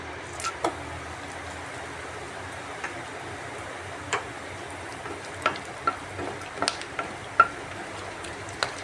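Whole garam masala spices go into hot oil and crackle with sparse sharp pops over a soft steady sizzle, near and fairly quiet, with no talking.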